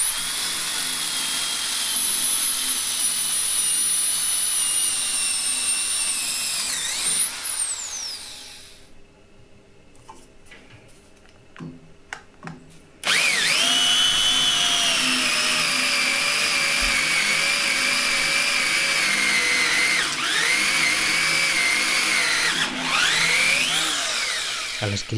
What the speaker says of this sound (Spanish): Felisati va bastante sobrado en modo taladro.